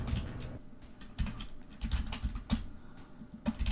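Quiet, irregular tapping on a computer keyboard, a scattering of soft keystrokes at close range with no talking.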